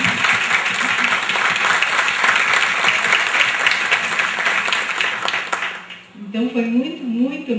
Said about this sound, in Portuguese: eu acho que a gente teve uma salva de palmas especial para ela